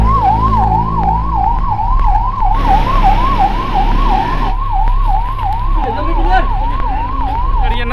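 A loud, close ambulance siren at a coal mine yelps in a rapid, rising-and-falling cycle that repeats throughout, over a low engine rumble and a brief burst of broadband noise.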